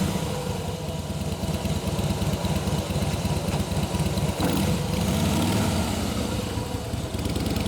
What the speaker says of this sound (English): We're just going to take it around the parking lot for a nice short demo ride.